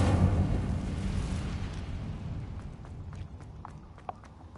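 A fire spell cast in Hogwarts Legacy gives a loud, rumbling burst at the start that slowly fades into a roaring crackle, with a few small pops near the end.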